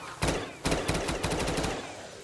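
Rapid gunfire with a firework effect in a Call of Duty custom zombies game, several loud bursts of popping shots in quick succession with short gaps between volleys.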